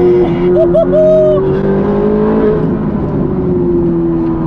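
A Ferrari engine hums steadily with a rising whine, sustained and close, like the car cruising at speed with wind and road noise underneath.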